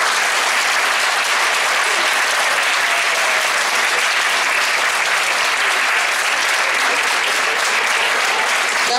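Loud, sustained applause from a large audience greeting the Sava Jeremić folk ensemble from Ražanj, dense even clapping filling the whole stretch without a break or any speech.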